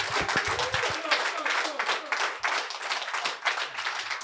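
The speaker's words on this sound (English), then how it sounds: "Round of applause." Audience applause and clapping at the close of an onstage interview with the Guns N' Roses bassist, dense and steady throughout, with voices and talk mixed in near the start.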